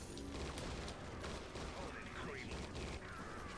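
Gunshots in the Judge Dredd: Dredd vs Death shooter game, dense overlapping shots and impacts in a continuous loud barrage, with game sounds busy throughout.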